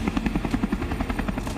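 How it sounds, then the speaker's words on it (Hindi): A patrol helicopter flies over the Mahakumbh fair, its rotor beating in a fast, steady chop, loud and close, with a continuous engine whine underneath and no voices. "अतिरिक्त हेलीकॉप्टर पेट्रोलिंग के लिए लगाए गए हैं"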